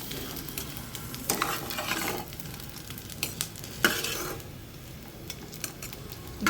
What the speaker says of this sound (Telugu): ఫస్ట్ వేసిన నూనె, ఆ నూనెలోనే ఇవి కూడా వేపుతున్నాను, సరిపోతుంది.